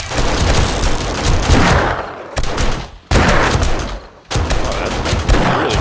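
Automated turrets loaded with standard 9mm rounds fire in 7 Days to Die, a dense, loud, continuous rattle of rapid shots broken by a few brief pauses, each followed by the barrage starting again.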